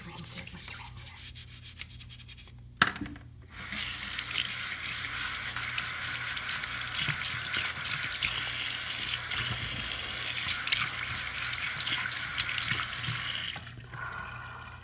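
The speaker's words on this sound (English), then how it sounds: "So I finished rinsing my sink" A kitchen sink is rinsed clean of hard water stains under a running tap, a steady loud hiss of water lasting about ten seconds after a brief clatter, then cutting off.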